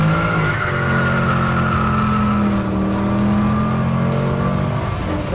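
A custom 1967 Pontiac Tempest sleeper on Bilstein shocks and heavy-duty springs pulls hard from a 5 mph roll through first and second gear, its engine roaring loud and close with rising pitch and a shift midway.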